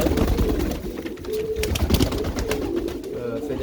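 Nearby pigeons give soft, throaty coos at a pigeon farm, with a voice speaking over the birds.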